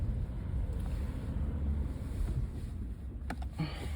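BMW 328i engine accelerating in sport mode after a catalytic converter change: a steady, loud low rumble throughout, with a couple of sharp pops or bangs near the end.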